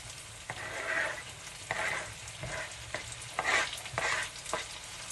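Onions, garlic and chili frying in a pan for a Haitian dish, a steady sizzle swelling as a spoon stirs through it in rhythmic strokes and knocks against the pan, no voices.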